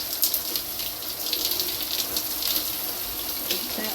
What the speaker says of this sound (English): Get the hot water going.